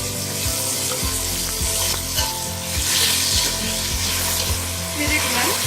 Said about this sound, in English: Once mustard seeds splutter, put some perilla. Now put 1 small size onion.